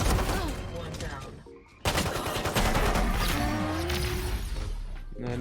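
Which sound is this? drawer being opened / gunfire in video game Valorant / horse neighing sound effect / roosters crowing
gunfire in video game Valorant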